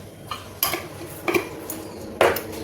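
A small spoon tapping and clinking against a bowl while amchur powder is added to a homemade radish pickle, four or five light metallic knocks close by, no speech.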